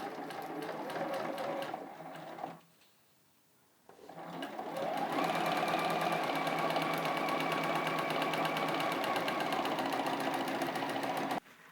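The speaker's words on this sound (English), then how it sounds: "slip them underneath the foot and stitch on down" A sewing machine stitches quilt block fabric, running in a short burst, pausing briefly, then resuming for a long steady whirring run of rapid rhythmic stitching, close and clear, with no voices.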